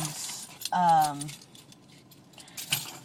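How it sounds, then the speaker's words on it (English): A bunch of keys jangles in short close bursts as someone rummages through a bag with paper in it, with a faint voice underneath. "I'm getting my keys out and looking through pieces of paper in my bag"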